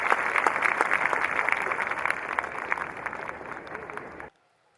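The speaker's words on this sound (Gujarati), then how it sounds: "તાળીઓના જોરદાર ગડગડાટ સાથે તેઓનું અભિવાદન કરીએ" Loud applause from a large crowd at the Atmiya Yuva Mahotsav youth festival in Karjan, Surat, greeting the departing chief minister, a dense roar of clapping that carries on steadily and then cuts off abruptly.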